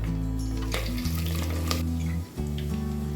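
Whole spices and slit green chilies hit hot oil in a clay pot, hissing in a loud, steady sizzle close by, with stirring scrapes and a brief dip near the end before the frying resumes; no one speaks.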